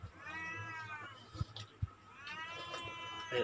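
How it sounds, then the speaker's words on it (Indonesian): A cat gives two drawn-out, insistent meows close by, separated by a pause with a couple of sharp knocks or taps. "Kucing ya, bising-bising."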